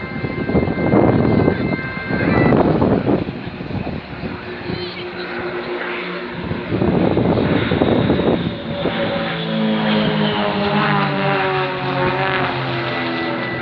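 Propeller aircraft of the Royal Jordanian Falcons aerobatic team perform a 2017 air display, their engines droning and swelling as they pass overhead, while a commentator speaks over the public address throughout.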